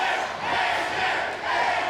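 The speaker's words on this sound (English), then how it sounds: "Half this crowd screaming AJ, the other half decides to get louder screaming Hardy" A TNA wrestling crowd roars and chants for AJ Styles and Jeff Hardy, a loud, dense wall of cheering and screaming voices that surges in waves throughout.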